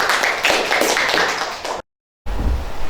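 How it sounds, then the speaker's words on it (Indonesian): Classroom audience applause, a dense patter of many hands clapping for about two seconds, loud and close, then a brief silent gap followed by low rumbling room noise. "Baik, kita kasih aplaus."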